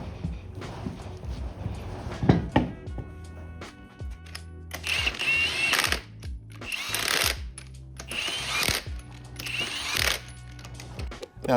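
Impact wrench torquing the lug nuts on a 2016 Jeep JK wheel fitted with a 37-inch tire, heard as loud repeated buzzing bursts of rapid hammering from close by, with clanks of handling in between.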